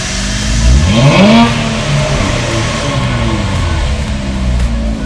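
An Infiniti Q50 fitted with new downpipes revs up, the engine note climbing and then easing back to a steady, loud idle close by, with no talk over it.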